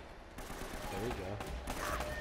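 Rapid bursts of gunfire from the video game Uncharted: Drake's Fortune crackle steadily through the clip while players talk over the shooting.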